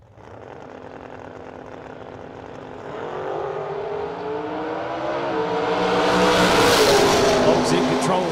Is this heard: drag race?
yes